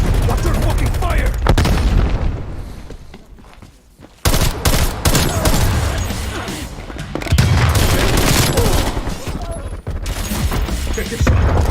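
Sustained video-game firefight with dense bursts of gunfire and rapid machine-gun volleys during a battle over a hard point, loud and nearly continuous, broken by a brief lull before the shooting resumes at full intensity.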